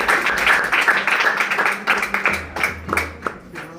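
A church congregation claps hands together during a worship service: a dense patter of many hands, fairly close, gradually thinning out toward the end.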